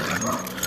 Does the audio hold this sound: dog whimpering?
yes